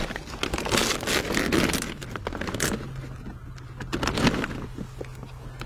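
A plastic rain cover crinkles and rustles close by as camera gear is wrapped in it outdoors, bursts of crackling with a low steady hum underneath.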